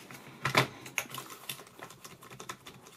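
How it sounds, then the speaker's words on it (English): Keys clack on a XENTA MT-K201 USB keyboard in an uneven burst of typing, close and fairly quiet, with one louder cluster early on and no talk. "sometimes these keys don't actually connect when I'm typing."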